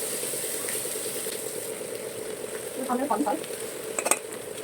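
Green chillies and cumin frying in a hot ladle of oil, a soft continuous sizzle with a steady hum underneath, a brief burst of bubbling and a sharp metal tap near the end, nearby and without speech.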